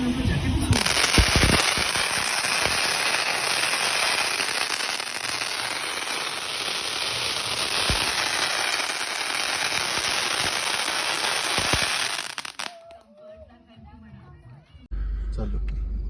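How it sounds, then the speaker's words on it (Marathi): Firecrackers burst during a Diwali celebration in a home town, a dense, loud, continuous crackle that runs for about twelve seconds and then cuts off, followed by quieter background and a brief noise. "सगळे फटाके फोडतात."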